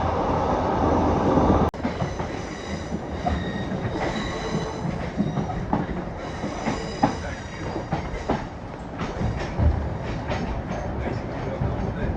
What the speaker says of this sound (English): I'm just waiting for the train to turn up